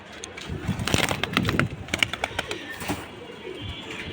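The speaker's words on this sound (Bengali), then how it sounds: "এই জোড়াটা হলো সিলভার কবুতরের একটা জোড়া" Silver pigeons at a pigeon farm coo and call in a steady run of overlapping throaty sounds, with a few short bird chirps and wing flutters scattered through the clip and no talking.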